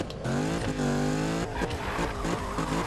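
A 2015 Ford Mustang's engine in Need for Speed 2015, revving high with rising and falling harmonic whine, shifting pitch between throttle blips as the car drifts, loud and close.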